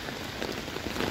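Steady rain pattering on surfaces in Ljubljana, a dense, continuous hiss of drops that grows slightly heavier toward the end, with no voices.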